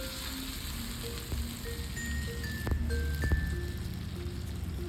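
Mustard seeds, dried red chillies and curry leaves sizzle steadily in hot oil for a chutney tempering, a dense continuous frying crackle with a few sharper pops near the middle.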